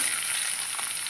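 Vegetables frying in oil for Jagannath bhog: a steady, close, bright sizzle that continues without pause through the whole brief moment.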